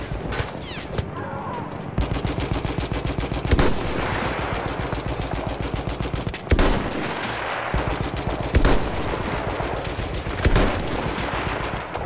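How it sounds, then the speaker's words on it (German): Rapid, continuous automatic gunfire from Battlefield 1, loud and close, with occasional heavier bursts and explosions punctuating the rattle. "Stattdessen werde ich hier die ganze Zeit unter Beschuss genommen."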